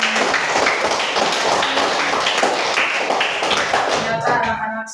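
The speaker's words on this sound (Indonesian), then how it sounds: "Tepuk tangan untuk kita semua." Classroom children clap their hands together in a loud, dense burst that continues steadily for several seconds before tapering off, with voices mixed in.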